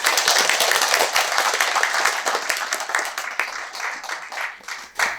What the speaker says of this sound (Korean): 박수 한 번 더 주셨으면 좋겠습니다.